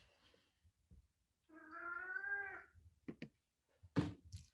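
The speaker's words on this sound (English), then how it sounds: "It's my elderly cat in the background." A single drawn-out meow from an elderly cat somewhat in the background, followed by a few short clicks and knocks.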